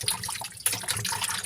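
Tap water runs over cooking ingredients being washed in a kitchen sink, a steady close splashing trickle that briefly drops off and then resumes, with no voices.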